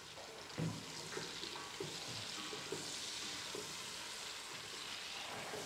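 Onion pieces fry steadily in hot oil and fat, a continuous bright sizzle with a few soft stirring clicks and scrapes, no talking.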